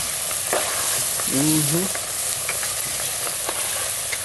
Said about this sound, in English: Now we're going to stir this until our onions wilt down and that sugar starts releasing and get that real brown color